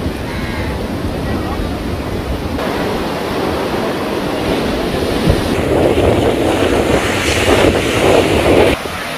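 Sea waves surging onto the shore at Koottayi Padinjarakkara, Tirur, roaring loudly and steadily, with heavy wind buffeting the microphone. The wash swells stronger toward the end.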